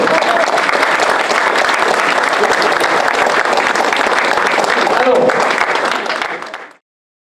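Loud, dense audience applause fills the room at a French event, a steady wall of clapping that holds for several seconds before cutting off abruptly near the end.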